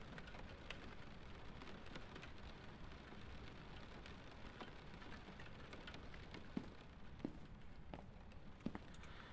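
Steady rain falls in the ghost-hunting video game Phasmophobia, a constant quiet hiss of drops with scattered sharper taps and no voices.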